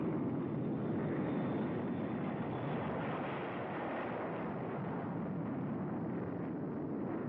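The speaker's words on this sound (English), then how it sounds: "drone jets, pilotless, crewless, at super speed flown up into the night sky" A pilotless jet drone aircraft, flown during the 1951 Operation Greenhouse atomic tests, roars with a dense, continuous broadband rumble that holds steady and loud throughout.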